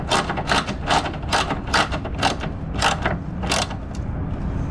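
Ratchet wrench tightening bolts on a Toro Powerlite electric-start snowblower with plastic housing; close, repeated bursts of quick clicking strokes in an even rhythm.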